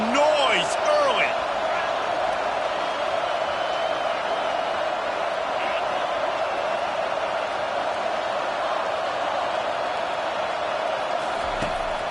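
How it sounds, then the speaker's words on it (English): Steady roar of a stadium crowd in a college football video game, a dense continuous wash of noise that holds level for the whole stretch, with brief sharp knocks near the start and end. "This crowd bringing the energy and noise early."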